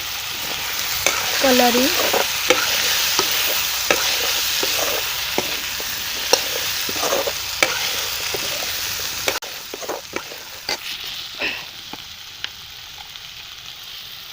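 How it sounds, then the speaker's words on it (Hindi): Onion and chili frying and being stirred in ghee in a home kitchen, a steady close sizzle with repeated scraping stir strokes throughout, a few brief spoken words over it. "प्याज और चिल्ली डाला, घी डाला"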